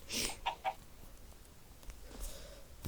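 A few short clucks from a Minecraft chicken, fairly close, followed by quieter background noise and a faint later squawk.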